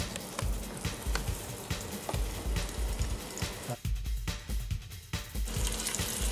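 Steady crackling sizzle of flour-dusted venison frying in a hot pan, continuous and close, with some clattering broadband bursts and no talking.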